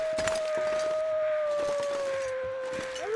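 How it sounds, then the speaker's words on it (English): A single long, sustained wolf howl in the video game The Long Dark, loud and close, holding a steady pitch for about three seconds before bending upward at the end, over faint wind. "It wasn't long, I heard a howl."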